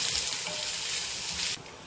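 Onions sauté in hot oil with popped mustard seeds in a pan for a ginger gravy, a soft steady sizzle with faint stirring that cuts off and drops away near the end.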